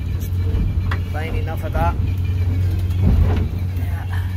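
Steady low engine drone of a Hurricane 21 boat cruising at about 8 to 9 knots in rough weather off the Outer Hebrides, continuous throughout with someone talking over it.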